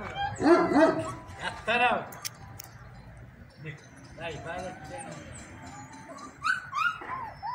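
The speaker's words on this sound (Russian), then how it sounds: "Щенки, отец их не Бейбарс." Puppies yip and bark in short, high bursts close by, with whimpers in between, while people talk in the background.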